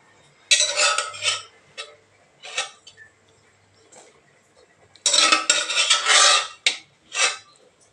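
Cooked white lima beans tipped into a pot of sambar, with a cluster of metal spoon scrapes and clinks against the pot, a pause of light taps, then a second louder burst of scraping and clattering.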